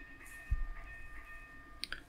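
A train in the Simutrans railway simulation game (pak192 comic set) pulls into Lüneburg station with a faint, steady rail rumble, a soft thump near the start and a couple of brief high clicks toward the end.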